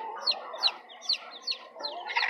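Chickens in a cage clucking close by, a series of short rising clucks about every half second, clear and moderately loud with no talking.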